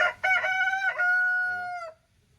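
A single loud rooster crow at a poultry farm, close by, rising and holding a bright drawn-out note before cutting off.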